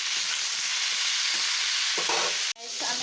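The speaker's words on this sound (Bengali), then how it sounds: "আমি তেলের মধ্যে সব কিছু মশলা দিয়েছি আর দিয়েছি আমি সজনা" Spices and pieces of drumstick vegetable fry in hot oil, giving a close, steady sizzle. Stirring scrapes and clatters break in near the end, followed by a brief pause and a fresh burst of frying.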